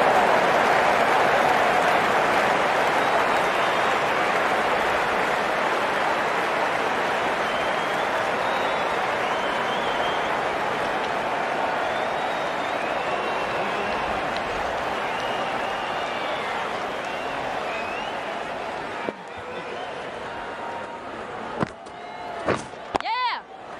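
A crowd applauds and cheers at a women's T20 cricket match between India and Pakistan, a steady broad roar lasting throughout, with commentators talking over it and a few sharper claps near the end.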